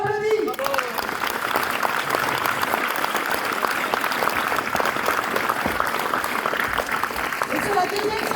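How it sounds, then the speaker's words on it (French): Audience at a French political rally in Cahors applauding, dense sustained clapping that carries on for several seconds, loud and close. "On les applaudit."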